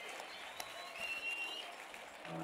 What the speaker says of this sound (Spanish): Un aplauso y un ruido fuerte.